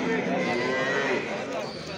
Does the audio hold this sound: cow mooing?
yes